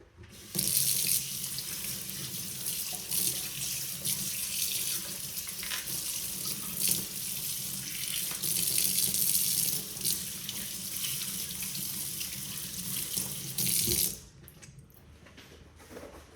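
Tap water runs steadily into a sink for about fourteen seconds while dough residue is washed off, then cuts off abruptly, leaving quiet room tone.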